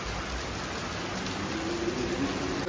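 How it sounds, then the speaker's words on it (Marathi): Heavy rain pours down outdoors, a soft, steady hiss of falling water that stays even and distant with no voices over it. "एकदम जोरात पाऊस चालू झाला बाहेर"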